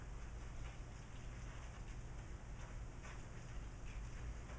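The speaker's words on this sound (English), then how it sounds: "That's pretty much what you're doing, is simulating a rain shower." A soft, steady patter of water sprinkled over a worm bin like a rain shower, constant and faint, with no voices.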